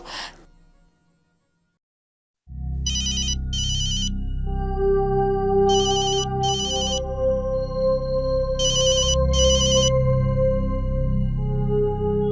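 After a brief silence, a phone ringtone begins and repeats steadily, an electronic melody with bursts of high chiming tones in regular pairs.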